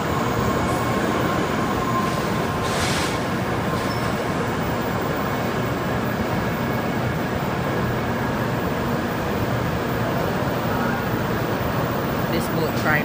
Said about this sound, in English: Here we go, the first bullet train.